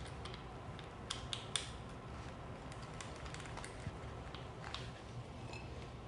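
Small metallic clicks and creaks from tightening a lock nut on a battery terminal of a Quantum Edge 3 Stretto power wheelchair, faint and sporadic over a steady background hiss.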